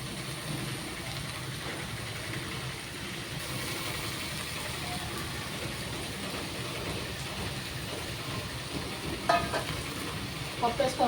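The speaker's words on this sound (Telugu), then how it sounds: "పప్పు వేసుకొని ఒకసారి కలుపుకుందాము." Moong dal is stirred into a sizzling bottle gourd and mango curry in a pan, a steady frying hiss throughout with a few sharp scraping clinks of the spoon near the end.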